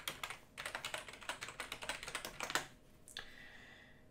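Password typed on a computer keyboard, a quick run of soft close key clicks in an even rhythm for a couple of seconds, then stopping, with a faint click afterward.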